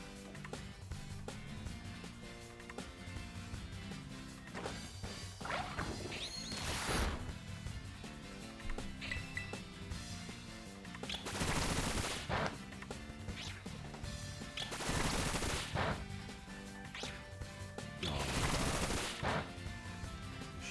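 Bullet Seed attack in Pokemon Violet on Switch 2: a rapid series of loud, broadband bursts arrives in several short clusters over game music, each volley sharp and punchy.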